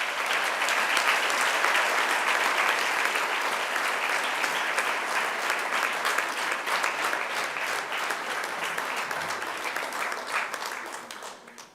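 Audience applause at a Westering High School Grade 9 prize-giving ceremony after awards are announced, a dense, steady clapping from a large crowd that holds for about eleven seconds before fading out at the end.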